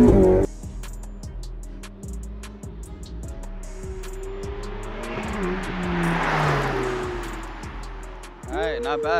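A Ferrari 488 Pista and a Porsche 911 GT2 RS race, engines revving loud and rising through repeated gear shifts, with a sustained roar and a swell of noise as they pass, voices talking over parts.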